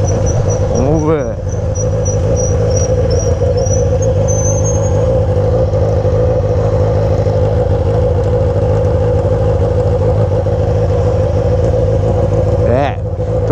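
A Yamaha XJ6 motorcycle with a Fuel Tech setup runs with a loud, steady engine drone close by, holding an even pitch throughout with brief higher chirps near the start and end.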